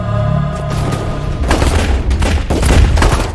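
Heavy gunfire rattles through a kung fu film fight with bandits, a loud, dense barrage of rapid shots and booming impacts layered over a tense musical score.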